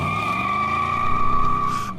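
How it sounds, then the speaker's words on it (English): Car tires screech in one long, loud, steady squeal as a car peels out of a hotel parking lot, holding nearly two seconds before cutting off abruptly. "jumping in and peeling out of the hotel parking lot towards the desert and the structure."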